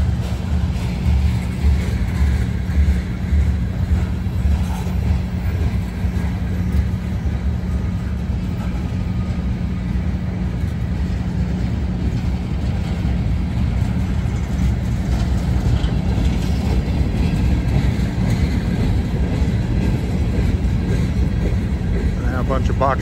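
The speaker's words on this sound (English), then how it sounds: "It's a long train." A long freight train carrying tanker cars and boxcars rumbles steadily past on a line up the Ohio River valley, a loud, continuous, close roar that holds throughout.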